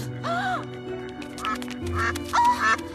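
A cartoon duck lets out three nasal quacks, the first and last loudest, over a faint sustained musical background.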